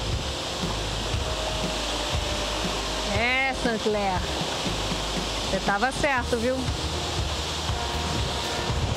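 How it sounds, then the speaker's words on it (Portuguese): Broad steady roar of the São Francisco river's tallest waterfall in Serra da Canastra, heard up close as continuous crashing water, with someone speaking over it for a few seconds. "É a maior queda d'água do Velho Chico"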